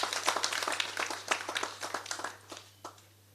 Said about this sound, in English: We should all clap our hands for these health workers.